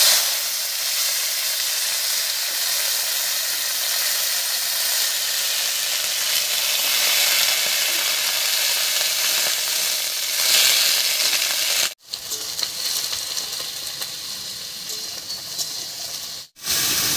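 Chopped bottle gourd shoots and potato fry in hot oil with cumin seeds and bay leaves, giving a loud, steady sizzling hiss that cuts off briefly twice near the end.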